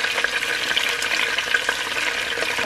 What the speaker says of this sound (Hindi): बस अब सारी बघार, 5 चीज़ें डाल रही हूँ बघार की।